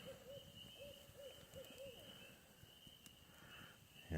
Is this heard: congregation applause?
no